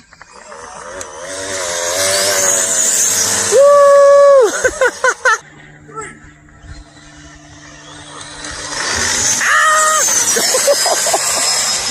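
A Traxxas XO-1 RC car launches hard on a speed run, its electric drivetrain letting out a loud, rising high-pitched whine with sharp squeals and chirps, then a lull before another screaming pass builds near the end.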